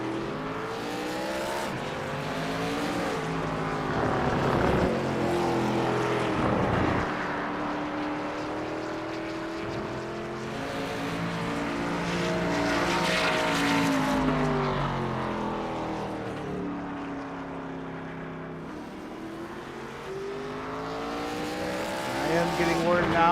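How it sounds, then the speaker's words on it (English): A fourth-gear V8 race car engine roars wide open down a backstretch at a race, its pitch rising and falling as it passes, loud and sustained with no voices. "you can just hear a fourth gear V8 wide open coming down that backstretch"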